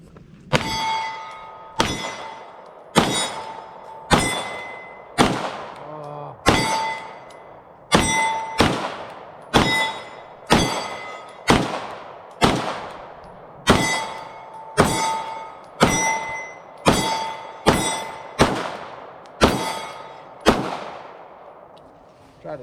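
A CZ P09 hammer-fired polymer pistol fires about twenty shots, each followed by a ringing clang from steel targets, in an irregular, fairly quick rhythm, loud and close with the rings trailing off between shots.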